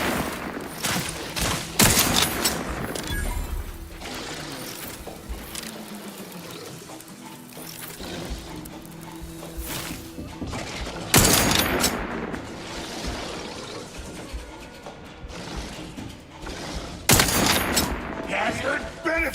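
Bursts of gunfire in The Outer Worlds 2, rapid volleys and single shots that come and go over a busy combat background with occasional faint voice lines.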